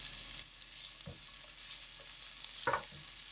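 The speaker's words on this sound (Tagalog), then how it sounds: "maggisa tayo ng bawang at sibuyas" Garlic and onion sauté in hot oil in a pan for hamonado sauce, giving a steady bright sizzle with a few scraping stirs and clinks of a utensil against the pan, close and moderately loud.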